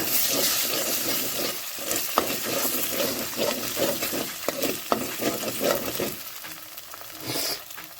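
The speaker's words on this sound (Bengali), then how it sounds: "নুডলস রান্না শুরু করে দিব।" Noodles are stirred and fried in a pan, a soft sizzle broken by repeated scraping clacks of the utensil against the pan, fairly close and uneven in rhythm, with no talking.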